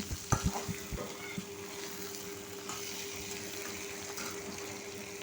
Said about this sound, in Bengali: মাছের মাথাগুলোকে আমি লাল লাল করে ভেজে নিচ্ছি